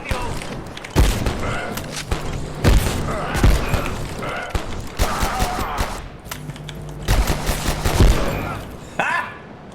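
Revolver gunshots in the video game Abiotic Factor ring out as a string of sharp, loud cracks spaced irregularly across the stretch, with game noise and speech mixed underneath.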